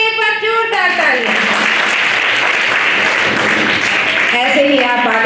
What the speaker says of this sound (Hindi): कस्तूरबा गांधी के लिए एक बार जोरदार तालियां।